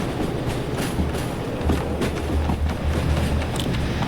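A train rolling along the tracks in the video game Derail Valley, with a steady low rumble and faint rhythmic clatter, continuous and fairly loud with no talk.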